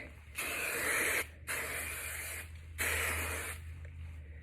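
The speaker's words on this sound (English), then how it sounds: "I just use the hard head, bed head, and I make sure I get that crown." Three bursts of Bed Head Hard Head aerosol hairspray hissing, each lasting about a second with short pauses between, close and fairly loud.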